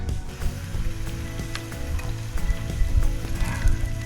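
Steady, crackling sizzle of steak cooking over a fire at a winter campsite, dense popping and hissing throughout, close and fairly loud with no talking.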